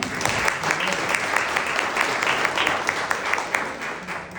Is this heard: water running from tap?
no